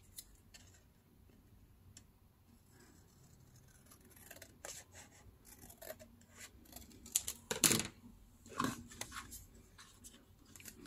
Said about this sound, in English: I'm gonna grab one of my decorative papers and cut the piece I need to cover this last end